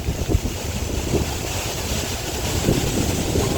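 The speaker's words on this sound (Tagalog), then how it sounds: "Yan, lakas ng hangin." Steady rushing wind buffets the microphone along the Intramuros golf course toward Harbor View in Manila, with a low roar like open water nearby; no voices, just continuous blustery noise throughout.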